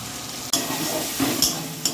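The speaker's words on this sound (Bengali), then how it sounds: "মশলাটাকে একটু নেড়ে চেড়ে নেব" Potatoes frying in a pan for aloo dum as a watered-down spice paste is stirred in: a loud, continuous sizzle with a few sharp spatula scrapes.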